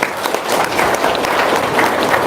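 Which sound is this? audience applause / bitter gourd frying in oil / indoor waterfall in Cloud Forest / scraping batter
audience applause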